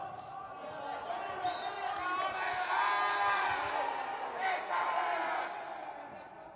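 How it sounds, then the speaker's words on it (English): Supporters shouting and cheering in an arena at an under-17 youth football play-off, a sustained, swelling roar of many voices from a distance, rising toward the middle and then easing off. "This is the first game today where the crowd's really getting involved in this one."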